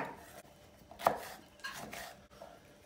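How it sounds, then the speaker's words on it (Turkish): Onions sliced very finely with a knife on a board, giving a few quiet, uneven chopping knocks, one sharper cut standing out, in a kitchen while cooking beans. "Soğanlarımızı çok ince doğrayacağız."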